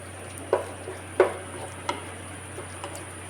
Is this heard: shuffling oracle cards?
no